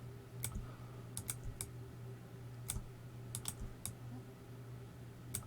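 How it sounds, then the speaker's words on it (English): A computer mouse clicks repeatedly during image editing, faint and sharp, in irregular single and double clicks over a steady low electrical hum, with no talking. "So you notice I'm clicking and going back over and over again."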